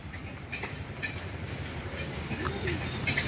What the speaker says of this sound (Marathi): मुंबईला नवीन लोकल चालू झाली.